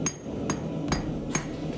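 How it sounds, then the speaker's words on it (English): A hammer fullers hot steel on an anvil while forging crosses: five sharp ringing blows spaced roughly every half second, close and clear over a quiet shop background. "I'm using the fullering side of my hammer"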